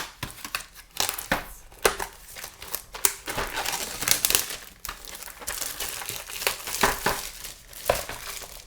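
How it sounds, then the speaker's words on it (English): Crinkly plastic packaging being torn and peeled off URSA blanks, a continuous busy run of close crackling, ripping and rustling with sharp snaps throughout and no talking. "unwrapping these"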